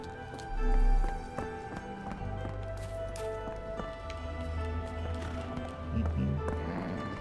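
Horse hooves clip-clopping in an indie horror video game remake of Sherlock Holmes, soft rhythmic steps over a droning ambient score, with one heavy low thump early on.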